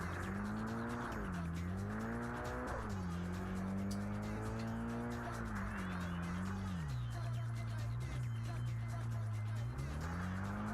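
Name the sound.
car driving in rain in a Japanese touge racing video game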